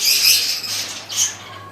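A female spangle budgerigar in a breeding setup gives a few short, loud, harsh squawks close by, with brief gaps between the calls.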